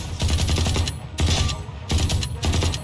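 Ares light machine gun firing in Valorant, three rapid sustained bursts of loud automatic fire separated by brief pauses, close and punchy.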